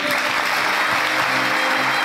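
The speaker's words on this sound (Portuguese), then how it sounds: "Uma salva de palmas." Children and adults at an Easter event in a nursery school give a warm round of applause, dense continuous clapping at moderate level with faint voices beneath.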